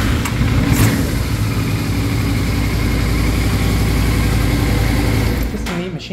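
A Yamaha Venture motorcycle's 1300cc V4 engine with freshly cleaned carburetors idles steadily and close by for about five seconds, a smooth continuous rumble that fades out near the end.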